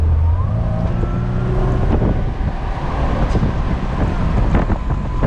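A 1998 Mercedes-Benz SLK 230 accelerates hard from inside the cabin, a low engine drone rising after an initial burst, heavily mixed with roaring wind and road noise throughout.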